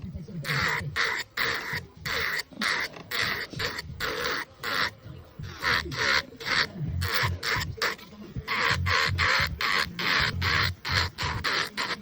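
Acrylic nails made with odorless monomer are being filed by hand: a steady series of close, scratchy rasping strokes in a quick back-and-forth rhythm, with brief pauses between runs.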